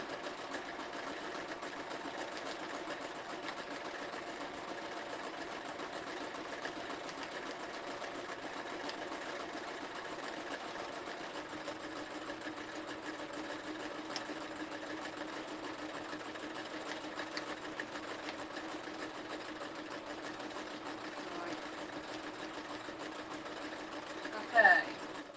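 An embroidery sewing machine stitches a free-hand appliqué design, giving a steady, even mechanical hum that runs unbroken for the whole stretch at moderate distance, with a brief louder knock near the end.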